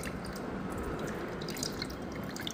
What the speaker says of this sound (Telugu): ముందుగా నానబెట్టుకున్న చింతపండు రసాన్ని వేసేద్దాం.